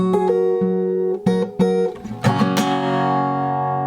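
A strummed acoustic guitar chord rings out, struck several times in quick succession, then a final full strum left to sustain and decay.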